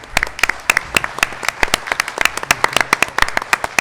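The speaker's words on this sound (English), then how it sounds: "Let's give them a round of applause." A small crowd at an annual community meeting claps in a lively burst, distinct individual hand claps rippling close by for several seconds without any talking.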